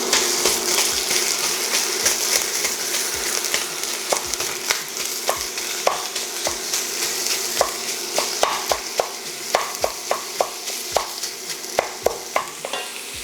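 Ground beef frying in a pan with leftover onion, a steady close sizzle under sharp clicks of a utensil stirring and scraping, with no one speaking.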